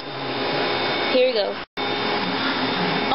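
A vacuum cleaner runs on the floor in another room with a steady, loud whirring drone that cuts out briefly and restarts, while someone speaks a few words over it.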